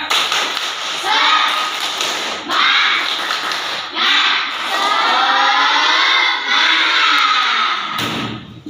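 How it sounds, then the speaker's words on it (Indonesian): Students in a classroom perform a loud rhythmic clapping chant, their voices rising and falling together in sung phrases punctuated by sharp bursts of claps and thumps. "Maka untuk itu tepuk semangat."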